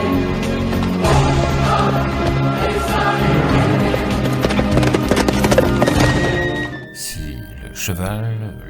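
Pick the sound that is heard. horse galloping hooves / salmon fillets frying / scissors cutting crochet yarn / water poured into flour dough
horse galloping hooves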